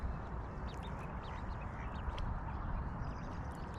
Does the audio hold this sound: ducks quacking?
yes